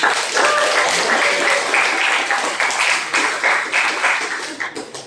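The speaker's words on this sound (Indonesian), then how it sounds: "tepuk tangan dong buat kalian" Classroom students clap for their classmates, a lively round of applause from a small group that runs steadily before tapering off near the end.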